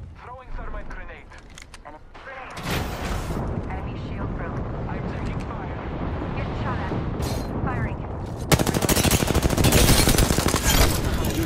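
Heavy gunfire in a video game shootout, sustained bursts of automatic fire that start after a couple of seconds and swell louder near the end, with voices speaking over the shooting.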